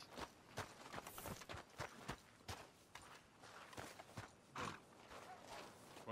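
Horse hooves in Red Dead Redemption 2 clop in a quick, uneven run of distinct hits, close and fairly loud, with no talk over them.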